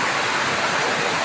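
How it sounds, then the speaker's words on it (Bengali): Heavy monsoon rain pours down on a tin roof in windy weather, a dense, loud, unbroken hiss with no talk over it. "এখন বাতাস আর জোরে নামছে এখন, জোরে নামছে বৃষ্টি।"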